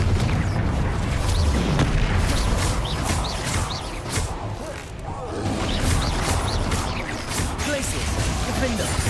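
Confringo fire spells explode in the game Hogwarts Legacy: repeated booms and crashing blasts over a continuous bed of game noise, with voice-like sounds mixed in.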